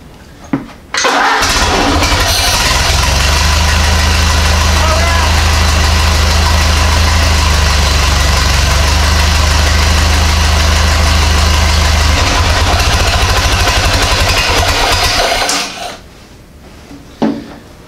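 The engine of a Ford AA Doodlebug, its timing slightly off, fires up and settles into a loud, steady idle for about fifteen seconds before shutting off, heard up close with no talk.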